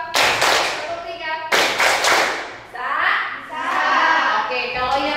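A primary-school class claps together in a counting clapping game, two loud bursts of rapid unison claps followed by children's voices and chatter, close and lively.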